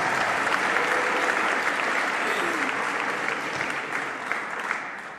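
A crowd claps steadily for several seconds, a dense, continuous wash of applause that tapers slightly toward the end.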